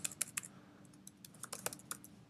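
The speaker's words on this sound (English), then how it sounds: "I'm going to type" Quick bursts of keystrokes on a computer keyboard, light clicky taps in an irregular typing rhythm, close and fairly quiet with no voices.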